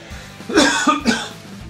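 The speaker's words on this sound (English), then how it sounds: "I got a cough." Two quick, harsh coughs close to the microphone, one right after the other.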